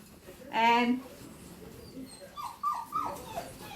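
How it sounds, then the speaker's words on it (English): A second dog shut in another room whines and yelps during a dog grooming session, one strong drawn-out whimper followed by several shorter, fainter cries, muffled and somewhat distant. "You can hear the other dog in the other room"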